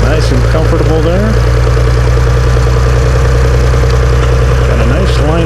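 A large farm tractor idles at a tractor show: a steady, low, even engine rumble runs throughout, close and constant, with people talking over it.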